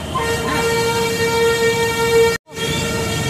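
Car horns blare in a long, sustained chord in busy traffic in Purnia, India, cut off abruptly for a moment before the tones resume.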